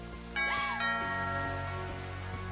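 A doorbell chimes with a two-tone ding-dong inside the video game What Remains of Edith Finch, ringing out clearly once with a lingering, fading tail over a quiet tonal background.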